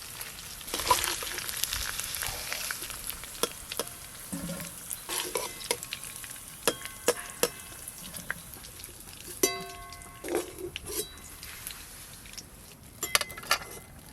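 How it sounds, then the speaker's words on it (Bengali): Shrimp frying in a pan after chicken, for mixed fried rice: loud sizzling with scraping stirs and irregular clatters of the utensil against the pan, with no talk. "এবার চিংড়ি মাছগুলো চিকেনের মতো একই রকমভাবে ভেজে নেব"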